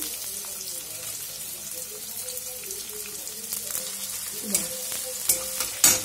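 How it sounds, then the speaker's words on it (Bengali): Onions and chana dal fry in hot oil in a pan for suji upma, a steady close sizzle with a few clinks and stirring knocks toward the end, no voices. "পেঁয়াজটা হালকা ভাজবো, লাল করে ভাজবো না।"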